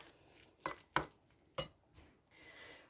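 Egg yolk, liver and mayonnaise filling being mixed in a bowl, heard as three sharp spoon-on-bowl knocks and scrapes over a faint background, with no one talking.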